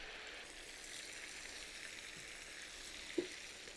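Chicken frying with turmeric and coriander powder in a pan gives a steady, fairly quiet sizzle throughout, with one brief louder clink or stir near the end.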